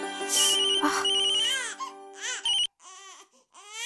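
A baby girl cries in loud, high, wavering wails with short breaths between, close up, mixed with a ringing phone tone.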